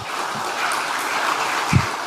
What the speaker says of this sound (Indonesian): Lihat tepuk tangannya